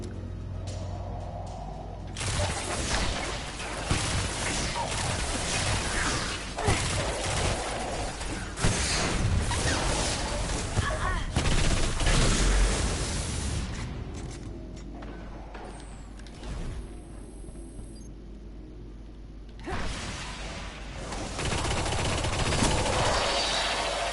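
Rapid, repeated gunfire from a heavily recoiling weapon during a Rise of Iron campaign mission in Destiny, with loud bursts and shots sustained across the clip and brief lulls between volleys.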